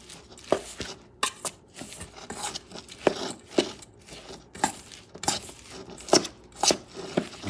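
Coconut macaroon batter worked in a bowl, with wet, thick scraping and slapping strokes repeating in a steady, close rhythm, each stroke a brief crunchy burst.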